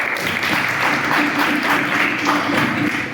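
Dense, continuous clapping from a lecture audience, loud and sustained throughout with a faint voice underneath.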